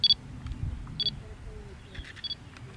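Pentax K-1 DSLR driving a Sigma 20mm f1.8 lens in autofocus, several short, quiet, high-pitched focus chirps and confirmation beeps repeated close by over a low room hum.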